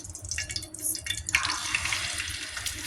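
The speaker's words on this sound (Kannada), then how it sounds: "ಅದು ಬಿಸಿ ಆದಮೇಲೆ ನಾನಲ್ಲಿ ಇದು ಮೀನನ್ನು ಫ್ರೈ ಮಾಡಲಿಕ್ಕೆ ಹಾಕ್ತೇನೆ ಈಗ" A big fish drops into hot oil for frying, setting off a loud, dense sizzle that swells suddenly partway through and holds steady, with a few clattering stirs before it.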